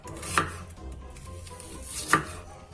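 Knife chopping large pieces of onion and pepper on a cutting board for a chicken gizzard stew. Two sharp, clear chops about two seconds apart stand out over quiet kitchen background.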